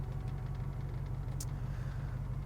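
The engine of a 1965 Ford Falcon, fitted with a digital dash, idles steadily after several minutes of running, a low, even rumble close by with no voices.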